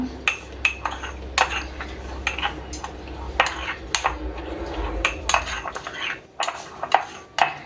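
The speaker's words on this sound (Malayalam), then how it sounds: "ഇതെല്ലാം കൂടി നമുക്ക് നന്നായിട്ട് അങ്ങ് മിക്സ് ചെയ്തെടുക്കണം" A homemade facial paste is mixed in a bowl with a spoon, giving repeated close clinks and taps of metal against the bowl in an uneven rhythm, with no talking.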